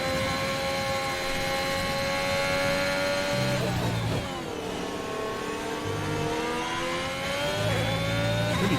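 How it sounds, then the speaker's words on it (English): Formula 1 car engine on a flying lap in the racing game F1 2021 at Bahrain, a loud high-pitched whine that rises and falls steadily through gear changes, continuous and close with no talking. "As we head round the track on this flying lap, I'm just going to let you see the whole lap."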